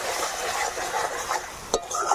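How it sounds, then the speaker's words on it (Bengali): Spice paste for a Bengali egg curry frying in hot oil, giving a steady close sizzle with scraping from stirring and one short metallic clink of a utensil against the pan. "দিয়ে এবার ভালো করে এই মশলাটা কষিয়ে নেব"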